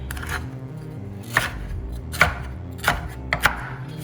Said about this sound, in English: Cut a little bit in strips.